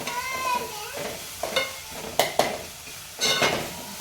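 Prawn masala for a pulimunchi curry sizzles in a pan while a utensil stirs and scrapes it in short bursts, close up and without talk.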